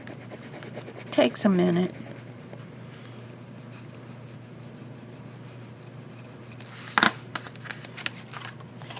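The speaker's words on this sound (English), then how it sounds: "I'm going to use my bone folder and rub that in." A bone folder rubs a transfer down onto a card with a couple of short, scratchy strokes. Someone talks quietly in between.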